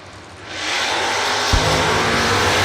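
An '86 blue Camaro and a clean '88 Mustang launch off the line at a drag strip, a loud roar of engines building fast and sustained, close and overwhelming.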